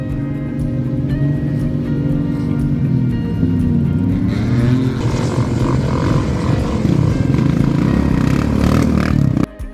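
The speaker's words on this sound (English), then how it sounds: "we went directly to the primary spot to witness the drag race over there" Cars roar past in a desert drag race on the dunes at the Liwa festival, engines revving hard and loud over a continuous roar before cutting off abruptly at the end.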